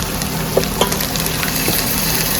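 Ginger-garlic paste fries in a hot pan for chicken dum biryani, a steady close sizzle with a few faint taps and scrapes of a stirring spoon.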